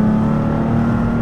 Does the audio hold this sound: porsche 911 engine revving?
yes